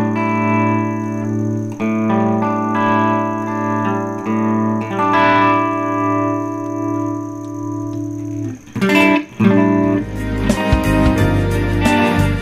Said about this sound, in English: it has really great tremolo